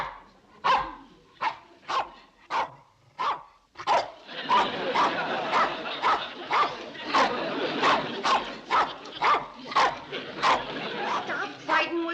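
A dog barking in repeated sharp barks, first spaced out, then coming in a rapid run over a busy background with voices and yips.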